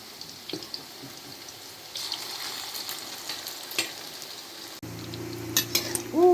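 Banana blossom fish cakes sizzle and fry in oil in a pan, a steady quiet crackle joined by clinks and scrapes of a utensil as they are flipped, with a sharper sputter near the end.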